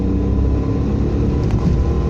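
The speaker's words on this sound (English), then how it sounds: "The engine makes a lot of noise" A Suzuki Jimny 660cc small SUV engine runs steadily at close range, a constant mid-pitched drone with low rumble and no talking.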